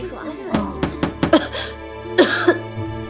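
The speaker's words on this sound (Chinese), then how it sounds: "你怎么咳得这么厉害啊？" A court maid in a period drama coughs hard in a series of harsh, ragged bursts close by, with throat-clearing and speech mixed between them.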